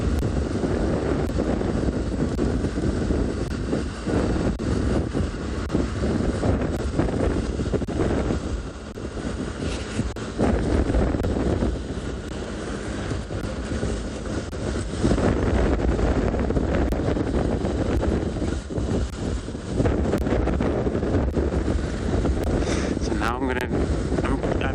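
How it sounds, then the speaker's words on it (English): Strong wind blowing hard on an open South African safari reserve, a loud continuous roar buffeting the microphone throughout, with no talk. "But then it gets cold because then the wind is still blowing hard."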